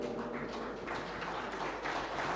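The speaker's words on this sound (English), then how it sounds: "I would like you to clap really loudly" An audience at a national deep-tech innovation conclave in Visakhapatnam claps together, a fairly soft, continuous wash of hand claps filling the hall without voices over it.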